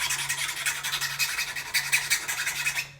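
A metal file rasps rhythmically across the tip of a PVC blowgun dart, quick close scraping strokes repeating steadily for a few seconds with a faint background hum.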